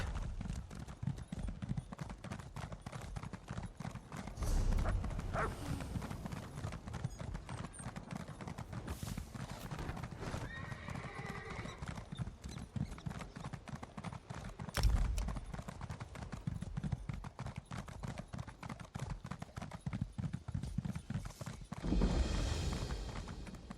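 Horse hooves clip-clopping at a steady trot while riding in the fantasy role-playing game Elder Scrolls Online, continuous and fairly close, with a few heavier thuds, alone with no talking.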